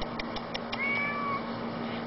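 A house cat's single soft meow, fairly faint and close, rising and falling over about half a second amid quiet background hiss.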